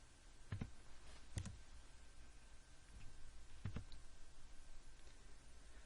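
Soft computer mouse clicks while working through software, a few sharp faint clicks, some in quick pairs, spaced out over quiet background.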